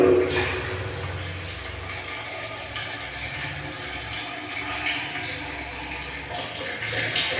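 Hot water running from a tap in a Gangtok hotel bathroom, a steady broadband rush of flowing water up close, continuous and fairly loud with no break throughout.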